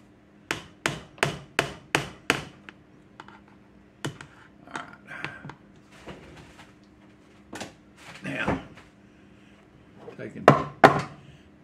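Rustic beer bread dough patted by hand, a quick run of six sharp close slaps followed by scattered softer taps and knocks, with a few breathy sounds between.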